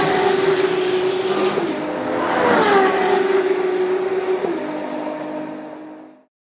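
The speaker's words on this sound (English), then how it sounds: "First up, Manga Tuner and Tony's car" Hot Wheels toy cars racing down a track on race day, a loud steady whirring hum with a sharp clack near the middle and another toward the end, then an abrupt stop.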